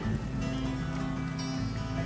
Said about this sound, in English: It's a narrow band of rain across the state of Florida